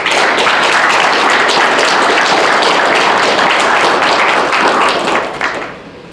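An audience gives a round of applause at a diplomatic opening ceremony, loud and close, with many hands clapping in a dense sustained burst that fades out over the last second.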